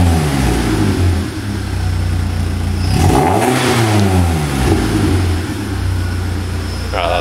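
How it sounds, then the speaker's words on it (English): A BMW E36 engine, just after a cold start, revs loudly up from a rough idle and falls back, close and dominant with a steady low rumble holding throughout. "Give her a little rev."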